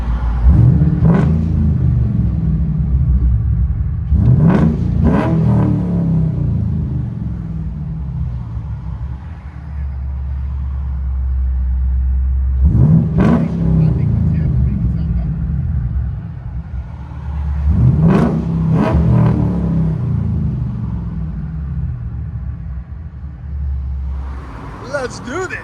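A convertible's engine heard from inside the cabin, a deep rumbling idle broken by several sharp revs that rise and fall at intervals, with voices talking over it.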